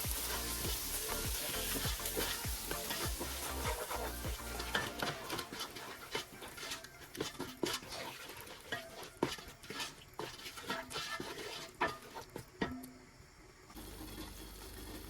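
Biryani masala sizzles and fries with curd in a pot for Dindigul-style biryani, a steady crackling hiss stirred with frequent scraping knocks throughout, fairly quiet and close.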